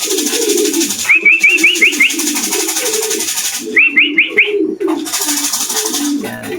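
Racing pigeons coo steadily in a loft, their low throaty calls rolling continuously and close, with short bursts of rapid, chirpy whistling notes, likely wing or bird sounds, breaking through twice.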